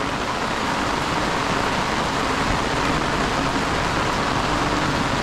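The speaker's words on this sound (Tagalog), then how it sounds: "Ang talas ng ulan." Heavy rain falls in a garden during the rainy season, a dense, steady hiss of drops on surfaces, loud and unbroken throughout with no voices.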